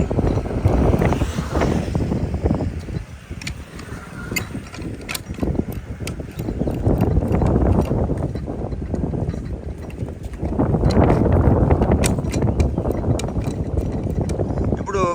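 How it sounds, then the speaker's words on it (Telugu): Strong wind buffets the microphone in an open farm field, a loud steady roar with rattling gusts that swells and eases, while people talk over it as a crop-spraying drone is being readied. "ఇప్పుడు గాలి ప్రభావం బాగా ఉంది కదా"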